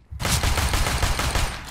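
Rapid pistol fire in a Counter-Strike match, a loud, dense burst of close shots fired in quick succession for over a second, with no talking.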